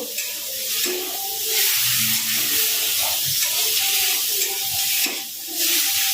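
Loud sizzling hiss from a frying pan as salted fish curry is stirred, with scraping and clinking of the spoon against the pan underneath.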